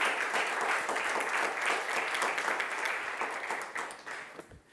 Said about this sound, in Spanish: Dale alabanza, dale palmas al Señor.